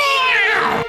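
A cartoon cat gives a single drawn-out, whiny meow that is close and loud and slides in pitch, with no talking over it.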